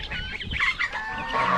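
Several chickens cluck close by in a busy overlapping chorus of short throaty calls, with brief higher squawks mixed in, loud and continuous.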